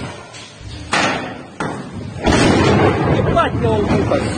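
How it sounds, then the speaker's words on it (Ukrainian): A loud blast from an airfield strike comes through a phone speaker as several heavy thuds and booming bursts, with a raised voice talking over it. "Тут йобаний взрив, окна нахер на виліт"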